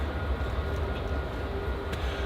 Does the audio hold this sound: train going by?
yes